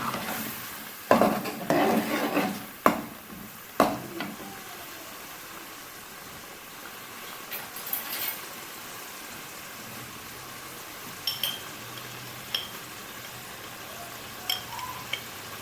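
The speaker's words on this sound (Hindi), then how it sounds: "अब हम इसको मज़ीद भून लेंगे।" Meat masala with yogurt frying in a pot, heard as a soft, steady sizzle with several loud clanks and scrapes of a spoon against metal near the start and a few lighter taps later.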